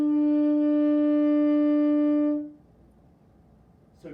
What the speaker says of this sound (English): that is note name B. And that's the first note we're going to learn on the saxophone.